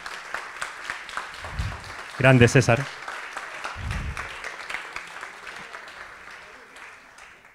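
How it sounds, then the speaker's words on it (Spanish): Audience applause at a book launch, a dense burst of clapping from a crowd in a room, with someone speaking briefly over it and a short loud moment partway through. "quería pedirle un aplauso"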